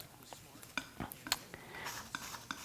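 A brush or palette knife mixing white paint on a palette, giving soft scattered taps and scrapes at close range, irregular and fairly quiet.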